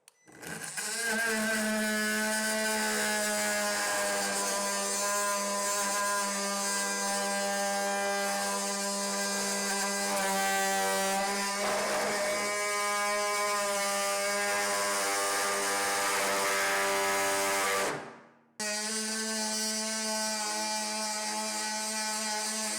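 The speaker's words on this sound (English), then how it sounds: "I'm going to be using the multi-tool to kind of cut around that without cutting the pipes" Ryobi R18MT-0 18V cordless multi-tool cutting flooring around a radiator, a loud steady oscillating buzz with a strong tonal whine that runs for about seventeen seconds, briefly stops, then starts again.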